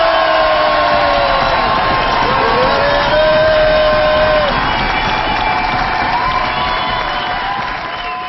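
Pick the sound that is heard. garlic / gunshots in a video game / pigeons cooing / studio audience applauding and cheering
studio audience applauding and cheering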